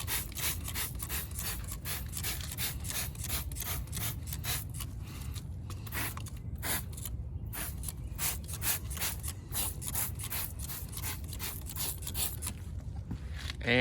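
A small horsehair brush scrubs a car wheel in quick rhythmic back-and-forth strokes, close and fairly quiet, with brief pauses between bursts of bristle rasping.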